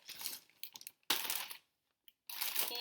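Chocolate chips poured from a torn bag corner into a plastic bag for a s'mores snack mix, heard as two bursts of dense rattling, crinkling patter separated by brief silence, fairly close and without talk.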